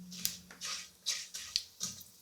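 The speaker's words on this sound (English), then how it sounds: "You can hear them sizzling away." Mustard seeds sizzle in hot oil in a pan for a Lamb Madras, quiet hissing bursts rising and fading in an irregular rhythm, close by with no talking.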